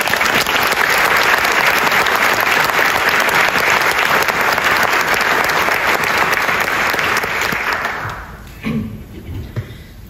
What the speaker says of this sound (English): I'd like to take a moment and give our wonderful teachers a round of applause.